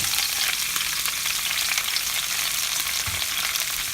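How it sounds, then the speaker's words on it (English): Cauliflower pieces hit hot oil in a pan for a curry side dish, producing a loud, dense, continuous close-up sizzle and crackle that holds steady throughout, with one soft thump near the end. "Oil is hot, so we are going to add all our cauliflower."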